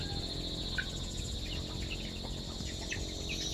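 Insects chirp at dusk on a mountainside, a faint continuous high trill with scattered quick chirps over a low rural background.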